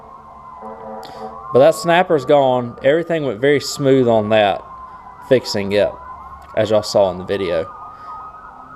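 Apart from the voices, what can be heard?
emergency vehicle siren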